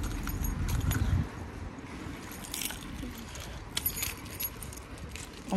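Keys jangling while a car is unlocked, a close, continuous metallic rattle with a few brighter clinks over a low rumbling background, without speech.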